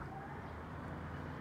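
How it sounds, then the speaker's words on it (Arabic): Pigeons coo softly in a loft, a brief, faint, low murmur of calls over a steady background hum. "اشوفكم الطيور"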